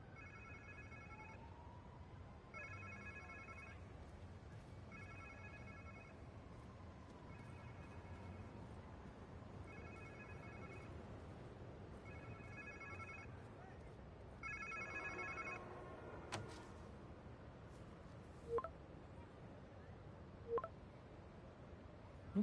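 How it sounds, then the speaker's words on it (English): A phone rings in the Spider-Man 2 video game, with repeated electronic trilling bursts every couple of seconds, fairly faint under game sounds and someone talking, before it stops. "Sounds like somebody's phone."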